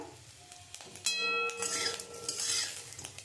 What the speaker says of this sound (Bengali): এটা যেহেতু কাতলা মাছ ওই জন্য খুব ফাটছে তোমরা ঢাকা দিয়ে তোমরা এটা ভাজবে